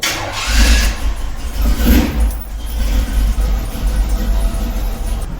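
A Jeep with its front drive shaft removed starts up: keys jangle briefly, then the engine fires and settles into a loud, rumbling idle nearby, with no speech.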